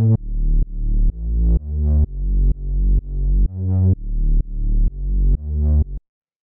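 Dark, ravey synth bass, a steady pattern of about a dozen heavy, buzzy low notes with pumping swells, loud and alone before stopping.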